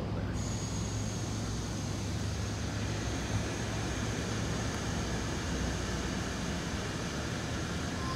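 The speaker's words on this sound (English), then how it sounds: "That sound is a truck behind me." A truck runs nearby at a flatbed loading dock, a steady low rumbling drone that holds at an even, moderate level with no talk over it.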